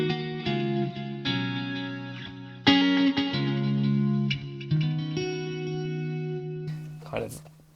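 Clean electric guitar tone through a Fractal amp modeler set to a low-gain vibrato channel with a 4x12 cab: ringing chords and notes struck one after another, sustained with chorus-like shimmer and reverb, alone without talk.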